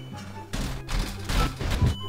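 A nuclear explosion in the Garry's Mod video game, a long rumbling blast with repeated booming surges over about two seconds, loud and close.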